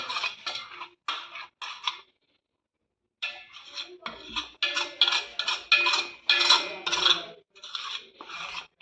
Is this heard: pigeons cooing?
no